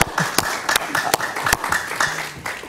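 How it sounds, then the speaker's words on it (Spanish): Scattered audience clapping at a televised interview, a few sharp individual claps standing out over a thin, uneven patter that stays fairly quiet. "Un aplauso para Guillermo Lasso."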